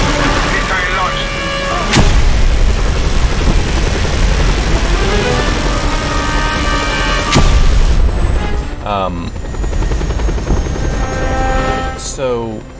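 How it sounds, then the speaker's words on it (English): Two sharp missile blasts in the video game Just Cause 2 land about five seconds apart over a constant helicopter rotor drone and engine roar, with voices in the background. "Missile launched"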